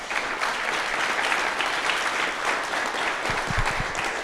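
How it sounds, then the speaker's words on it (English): A conference audience applauds the organizing committee with loud, steady clapping throughout, with a few heavier low thumps near the end. "Let's please give them a round of applause."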